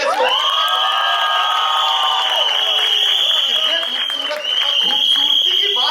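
Dense crowd cheering, whooping and applause at a Bollywood trailer launch for the film Kuch Khattaa Ho Jaay with Guru Randhawa, loud and continuous throughout with a sustained tonal drone layered over the roaring audience.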